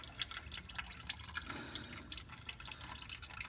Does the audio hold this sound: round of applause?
no